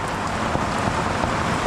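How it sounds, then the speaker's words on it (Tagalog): Heavy rain falls steadily and loudly, a dense continuous wash of drumming with no voices over it. "Lakas ng ulan."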